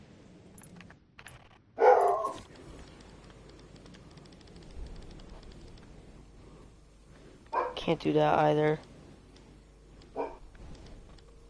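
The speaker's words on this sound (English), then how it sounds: "My dog is going nuts for some random reason." A dog barks in another room, faint, in two short clusters, once early and again later in a longer run of several barks, while a person speaks quietly and keys tap now and then.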